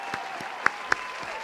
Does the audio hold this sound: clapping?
yes